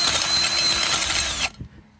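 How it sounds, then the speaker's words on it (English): A garden auger drill bores a planting hole in rocky soil with a loud, steady whirring grind that cuts off abruptly, leaving brief faint rattles. "I'm going to take my auger, place it where the plant is going to go, and just gently activate that drill."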